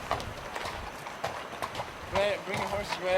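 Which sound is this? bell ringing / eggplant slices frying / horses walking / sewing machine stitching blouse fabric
horses walking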